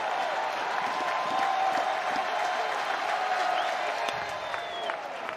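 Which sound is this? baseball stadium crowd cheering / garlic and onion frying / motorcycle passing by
baseball stadium crowd cheering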